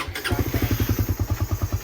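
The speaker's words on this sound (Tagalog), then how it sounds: "Andar na yung motor." A motorcycle engine runs at a steady idle, its close, even putter pulsing rhythmically with no other sound.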